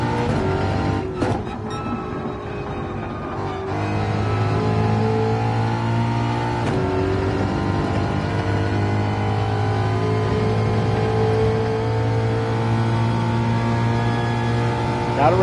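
A Red Bull race car engine drones loudly in Gran Turismo 7, a steady high-revving tone with brief shifts in pitch as the car holds speed on track.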